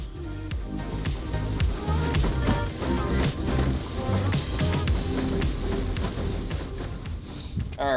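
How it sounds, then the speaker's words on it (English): A fishing boat running on shallow water carries steady low engine rumble and water wash, with sharp knocks and thumps over the top and no clear talk. "All right, let's get in the boat."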